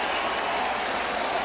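A large stadium crowd at a Major League Baseball game roars and applauds in a dense, continuous wash of distant cheering without any clear voices.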